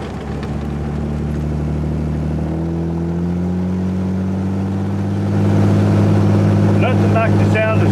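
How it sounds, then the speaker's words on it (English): A 1927 Hudson six-cylinder engine burbles steadily through its split exhaust, pitch climbing as it revs and shifts, loud and close, with a voice faintly underneath. "Nothing like the sound of split exhaust on an old six-cylinder."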